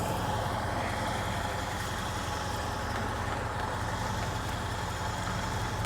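Idling 1931 Willys straight-eight fitted with a Flowmaster exhaust, producing a continuous low burbling rumble at a steady level, close by and alone, with no talking.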